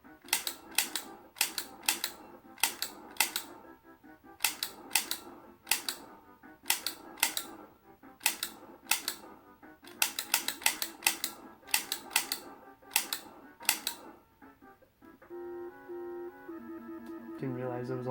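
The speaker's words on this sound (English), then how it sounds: "You can just kind of half press the trigger so you don't have to get that clicking noise." Light gun video game accessory trigger clicking repeatedly, sharp near clicks in irregular bursts, sometimes in quick pairs, over faint game music, ending with game sound effects.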